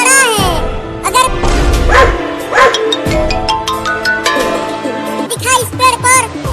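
Two dogs bark and yip in a Hindi comedy sketch, short sharp barks scattered through the stretch amid voices and other busy background sound.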